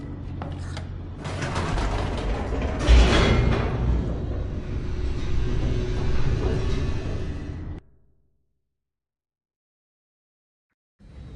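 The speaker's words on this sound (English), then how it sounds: "The elevator raced downward, plummeting towards an unknown fate." An elevator in The Stanley Parable descends with a loud mechanical rumble and grinding clatter for several seconds, then cuts off abruptly into silence before a faint sound returns at the end.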